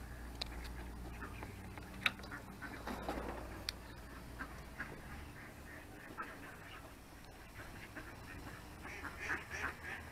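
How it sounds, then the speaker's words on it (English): A duck quacks in short, scattered bursts outdoors while ducks are being fed, with the calls fairly faint under wind and background noise and occasional voices nearby. "It's a duck!"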